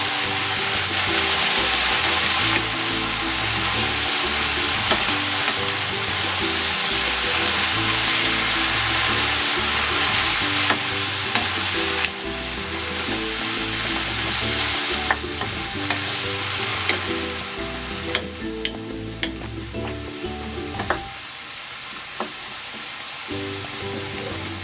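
Pechay leaves sautéing in a hot pan, a steady loud sizzle with repeated clinks and scrapes of stirring running nearly throughout, thinning out near the end.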